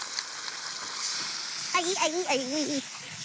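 Garlic browning with tomato puree sizzles in a pan as a steady hiss close by, while a voice talks over it partway through.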